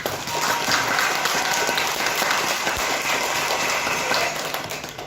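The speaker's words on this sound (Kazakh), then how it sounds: "Қол шапалақтап, қол соғылтуларыңызды сұраймыз." An audience at a school concert of young guitar, ukulele and singing students claps steadily and loudly throughout, a dense sustained applause.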